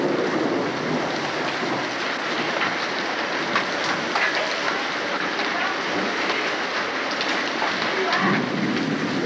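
Hailstorm with heavy rain and thunder, a dense, steady roar of pounding precipitation that holds loud and unbroken throughout, with deep rumbles rolling underneath.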